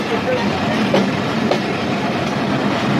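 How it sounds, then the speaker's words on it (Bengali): A Benapole Express passenger train pulls out of Daulatpur railway station in Khulna, its carriages rolling past close by in a steady, loud rumble with faint rail clatter throughout. "দেখুন এটি হচ্ছে বেনাপোল এক্সপ্রেস ট্রেন, যেটা বেনাপোলের উদ্দেশ্যে ছেড়ে যাচ্ছে খুলনার দৌলতপুর রেল স্টেশন থেকে"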